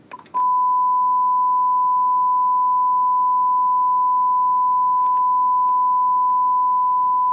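A steady, pure 1 kHz sine test tone starts after a brief click and holds unbroken and loud to the end, with faint ticks midway.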